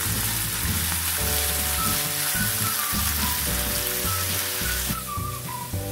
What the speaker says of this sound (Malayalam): കട്ട് ചെയ്ത് വെച്ച ചെറിയൊരു സവാള ഒരു 3-4 അല്ലി വെളുത്തുള്ളി കറിവേപ്പില ഇതൊന്ന് ബ്രൗൺ കളർ ആവുന്ന വരെ ഒന്ന് വഴറ്റുക